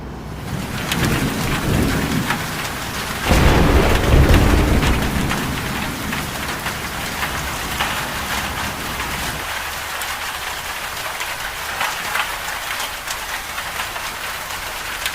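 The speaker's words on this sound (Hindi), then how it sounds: "तेज हवा चलने लगी और फिर जोरदार बारिश शुरू हो गई" Heavy rain pours steadily while a deep rumble of thunder rolls through, swelling early on before the downpour continues alone.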